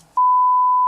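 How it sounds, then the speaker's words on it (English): A smoke detector with a low battery gives a single loud, steady electronic beep that starts abruptly and holds for most of a second, with only faint room sound before it. "This beeping noise was actually just the low battery sound from the smoke detectors"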